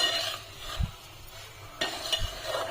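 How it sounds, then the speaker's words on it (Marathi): Semolina roasting in ghee in a pan, a spoon scraping and stirring with a few soft clinks against the metal, quiet and close with gentle sizzling underneath. "आता इथे साजूक तुपावरती रवा भाजायला घेतला आहे"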